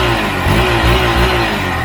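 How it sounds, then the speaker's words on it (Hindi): A 2021 Hero XPulse 200 motorcycle's 200cc engine revs near the mic, a loud, steady exhaust drone rising in short throttle pulses, with no talking. "Let me give you full throttle. Exhaust note आप देख लो"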